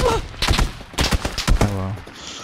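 Gunfire in the battle royale video game PUBG, several loud sharp shots in quick irregular bursts, mixed with game sound and a brief voice.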